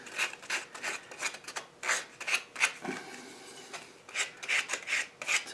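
Mahogany wood from a scroll saw project is sanded by hand, giving repeated rasping rubs in short back-and-forth strokes, close and moderately loud, with brief pauses between passes.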